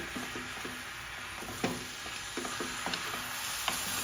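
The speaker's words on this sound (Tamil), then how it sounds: "நம்ம அதை நல்லா கிண்டி விட்டுக்கிட்டே இருக்கணும்" Amla gooseberry pickle frying in oil while being stirred, a steady close sizzle broken by irregular clicks and scrapes of the spoon against the pan, with no talking.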